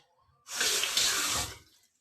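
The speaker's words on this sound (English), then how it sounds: "Put a bit of water in it." Tap water running into a container for a short, steady burst of about a second, close and clear, starting and stopping abruptly with no talking.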